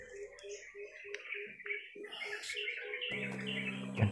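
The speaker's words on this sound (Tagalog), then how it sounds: "May mga ibon na gumagala rito." Birds chirp nearby, a short note repeated in a steady rhythm with scattered higher tweets, and a buzzy mechanical noise joins at the end.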